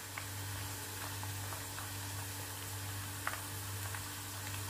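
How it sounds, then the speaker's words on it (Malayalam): Banana slices deep-frying in hot oil over a medium flame for Kerala banana chips, a steady low sizzle with faint scattered pops running throughout. "മീഡിയം ഫ്ലെയിമിൽ കിടന്നിട്ടാണ് ഫ്രൈ ആയിക്കൊണ്ടിരിക്കുന്നത്."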